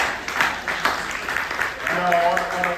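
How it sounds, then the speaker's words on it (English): Audience in a room at a citywide reparations gathering applauding, a steady wash of clapping with some voices rising over it toward the end. "Give yourselves a round of applause."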